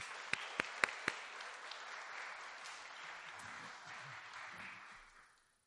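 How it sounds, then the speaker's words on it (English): Audience applause welcoming a lecturer at a talk hosted by a center for Ignatian spirituality: a steady wash of many hands clapping for about five seconds, with a few sharp close claps early on, fading out at the end. "Please join me in welcoming Father Nick Steeves with a round of applause."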